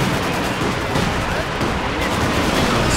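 Dense, continuous MG42 machine gun fire in the Company of Heroes 2 Stalingrad mission, a loud, unbroken battle roar with overlapping bursts and no clear gaps across the whole stretch.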